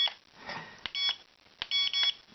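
Single short electronic beep from a Realacc R374 mini drone transmitter changing speed setting, a brief tone among faint handling noise, heard close.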